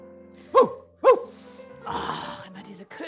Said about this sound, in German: Oh, immer diese Köter.